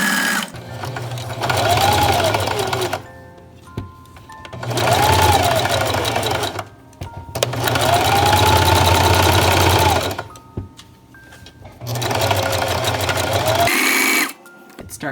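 Sewing machine running a zigzag stitch on stretchy onesie fabric in four long bursts of steady, close mechanical whirring, separated by short pauses with small clicks.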